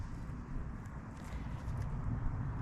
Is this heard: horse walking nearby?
yes